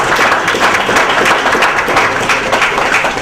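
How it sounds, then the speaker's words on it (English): An audience gives a dense burst of clapping that holds steady and loud for the whole few seconds, with no voices over it. "Can we give a very big hand of applause to Sabrina and Phil?"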